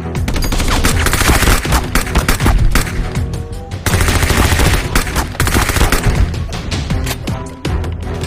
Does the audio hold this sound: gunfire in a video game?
yes